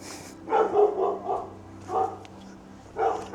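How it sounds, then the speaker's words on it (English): A big dog barks in a few bursts of deep woofs, moderately close, separated by short pauses against a quiet outdoor background. "Dog's congratulating me already."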